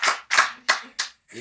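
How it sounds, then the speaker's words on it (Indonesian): Applause for a guest star on an Indonesian talk show: short bursts of clapping, about four sharply separated swells, close and fairly loud, with a voice starting at the very end. "Tepuk tangan dulu"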